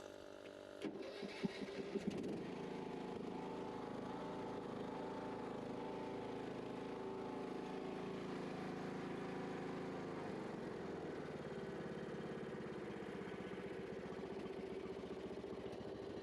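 A riding mower with a loose battery cable clicks and cranks, then its engine catches and settles into a steady, even idle for the rest of the clip, heard fairly faint and at a distance.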